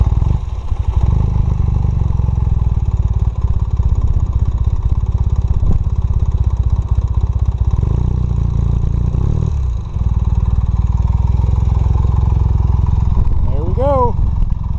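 A 1980 Honda CM400A motorcycle engine starts and settles into a loud, close, rumbling idle with steady mechanical clatter, dipping briefly mid-way before running on, with a voice speaking over it.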